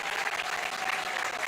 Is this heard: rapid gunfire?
no